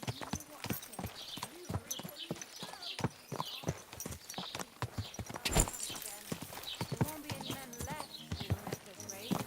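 A horse in Kingdom Come Deliverance 2 clip-clopping at a steady walking rhythm, close and distinct, with voices talking over the hoofbeats.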